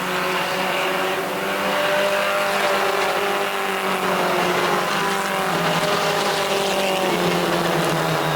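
4-cylinder pro race cars roar around a short track in a steady, loud, continuous engine drone, with several motors layered together and rising and falling slightly as the pack passes, with no talk over it.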